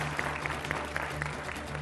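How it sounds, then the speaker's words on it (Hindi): Studio audience on a Hindi TV debate show applauding to welcome a Supreme Court lawyer guest; steady, moderate clapping with regular sharper claps, a low steady hum running underneath throughout. "तालियों के साथ आपका स्वागत है।"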